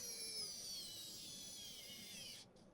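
A Sequre electronic USB screwdriver in automatic mode driving a screw, a thin high motor whine held steady for over two seconds before cutting off abruptly, close but faint with no talk.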